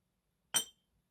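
Glasses clinking together in a toast, one bright short clink in an otherwise quiet room.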